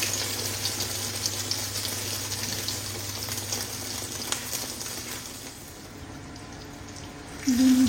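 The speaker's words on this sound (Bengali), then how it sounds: "এখানে 2টা ডিম ভাজি করব।" Two eggs frying in a pan with onion, chili, coriander and salt give a steady, close hiss and crackle throughout, fading slightly toward the end before a brief louder burst.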